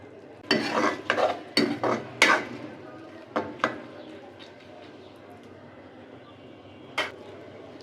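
Soaked red lentils stirred and sautéed in spices in a pan for egg dal, giving a run of scraping, rustling stirring strokes in quick succession, then a pause and one more stroke near the end.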